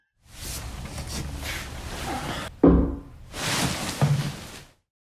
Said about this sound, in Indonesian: mendengar adanya suara ketukan misterius dari balik tembok